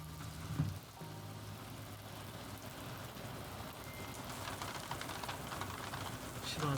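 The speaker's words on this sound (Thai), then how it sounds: "Ooh, it's raining." Steady rain falls outdoors as a dense, even hiss, fairly faint, with a brief soft knock near the start and no talk.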